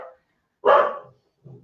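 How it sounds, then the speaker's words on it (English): Dogs barking indoors: a brief yip, then one loud, sharp bark, followed by a quieter, lower woof. "Sorry about the dogs."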